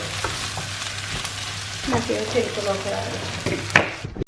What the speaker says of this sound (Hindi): एक 3-4 मिनट के लिए अच्छी तरह से भूनूंगी